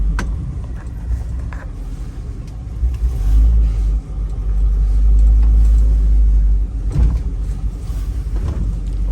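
A 1957 Chevrolet Bel Air wagon drives along a neighborhood street, its engine rumbling loud and low up close, with the drone swelling and easing as it moves.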